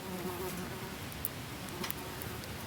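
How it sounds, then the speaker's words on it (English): Large bee buzzing outdoors at a bushcraft campsite, a faint steady drone that hums close by and wavers in pitch, over quiet background with a couple of small knocks. "Do you hear that massive bee then, guys?"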